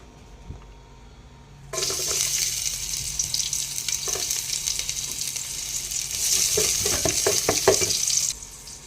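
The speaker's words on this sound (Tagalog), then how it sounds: "Mag-gisa muna tayo ng lagyan natin ng bagong langis. Ayun. Gisa natin itong ano, bawang." Garlic drops into fresh hot oil for chicken adobo and bursts into a loud, continuous sizzle after a quiet start. Stirring scrapes and crackles swell near the end before the frying suddenly cuts off.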